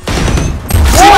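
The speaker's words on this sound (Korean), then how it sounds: "폭탄 받아라." A video game bomb goes off with a loud, dense blast and rolling boom, close and heavy, with a rising whine at the end and a voice briefly heard around it.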